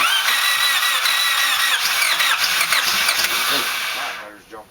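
A Honda D16Z6 car engine cranks and fires for its first start, with a busy, whirring mechanical clatter close by that fades out at the end.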